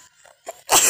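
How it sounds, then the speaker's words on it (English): A single sharp, explosive sneeze bursts out after a couple of faint breathy sounds, loud and close, ending the short clip. "Sneeze."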